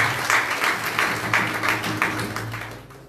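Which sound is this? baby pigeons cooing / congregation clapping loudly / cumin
congregation clapping loudly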